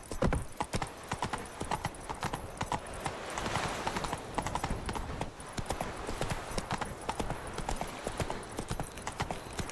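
Hooves of Roach, the horse in The Witcher 3 video game, clip-clop in a fast, continuous galloping rhythm, loud and close, alongside game ambience.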